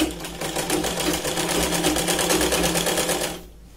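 Sewing machine stitching along the side edge of a Punjabi dress, a steady, loud continuous whirr with rapid regular needle pulses, running alone for about three and a half seconds before stopping abruptly.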